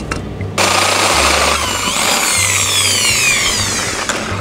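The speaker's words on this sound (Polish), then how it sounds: "Teraz z tej strony musimy zrobić tą samą operację. Czyli musimy to nawiercić." A power drill bores into a homemade motorcycle fork, starting after a short quiet moment and then whining loudly and steadily close by, with pitch shifts as the bit bites. Nobody talks.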